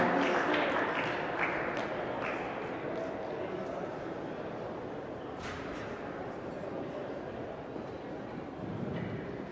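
Steady applause at a men's 10m air pistol competition, honoring the shooter leaving in eighth place, a dense crackling of clapping that fills the whole stretch and swells slightly near the end.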